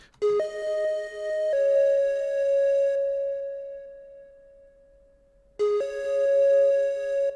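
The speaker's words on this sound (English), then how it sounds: "This is what the raw flute sounds like." Raw, unprocessed pan flute playing a lead melody: clear sustained breathy tones with a few note changes, a short gap, then the phrase resuming, loud and close with no voices.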